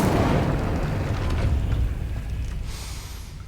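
The Incendio fire spell goes off in Hogwarts Legacy, a loud whooshing, booming burst of flame at the start that rumbles on and slowly dies away over a few seconds.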